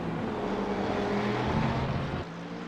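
A Mercedes GT3 race car in a racing video game drones steadily, its engine a continuous, fairly loud tone that dips slightly near the end.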